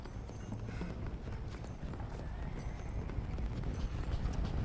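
Horses' hooves clip-clop in a steady, muffled patter within a zombie video game, low and continuous beneath a faint background hiss.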